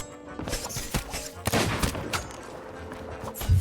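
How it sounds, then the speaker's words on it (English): Sniper rifle shot in the Sea of Thieves pirate video game, heard amid a loud, busy burst of gunfire and combat noise with several sharp cracks over about three and a half seconds. "I got sniped whilst I was sword fighting"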